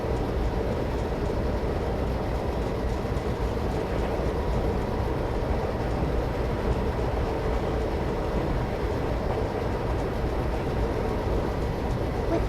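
A video-game train coasts along the track with the throttle off, a steady rumbling roll that stays loud and even throughout with no voices.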